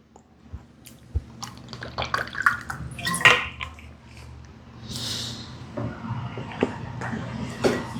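Water poured a little at a time into a glass or cup, with clinks of a vessel and a few drips, close and fairly quiet, followed by a short splash-like rush; no speech.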